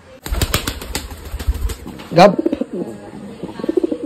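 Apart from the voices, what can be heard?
pigeons being handled, cooing and flapping wings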